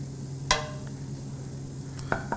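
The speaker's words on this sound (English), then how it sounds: "We can hear that sizzle" Quiet, steady hiss of garlic frying in a pan with a few soft clicks and a light utensil tap near the end; no one speaks.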